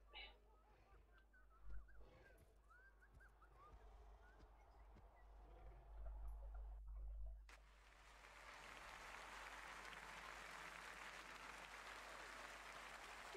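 Applause and cheering crowd sounds from the Rayman Raving Rabbids video game build into a dense, steady wash after a burst of honking, cartoonish game effects, lasting several seconds at moderate level.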